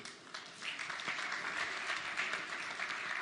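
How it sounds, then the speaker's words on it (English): Steady audience applause at a conference talk on the Internet of Things, heard at a fairly low level and sustained for the whole three seconds with no voices on top. "So if you could give a warm round of applause to Mr. Pierre Noël."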